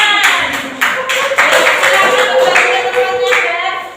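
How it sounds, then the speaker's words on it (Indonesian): Students clapping in a classroom during a teacher-training lesson, a dense burst of many hands that continues steadily for about four seconds, fairly loud and close, with a few voices faintly mixed in. "Tepuk tangan."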